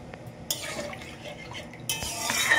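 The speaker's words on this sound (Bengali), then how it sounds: "আমি মিক্সির বাটি ধুয়ে সেই জলটাই দিচ্ছি" Water from a rinsed mixer grinder bowl pours into a cooking pot of simmering fish curry spices, a soft continuous splashing trickle with a couple of brighter surges and faint clinks.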